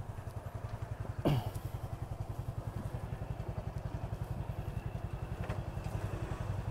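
Honda Wave RSX 110 FI motorcycle idling quietly close by while being parked, with a steady, even putter and a brief clatter near the start.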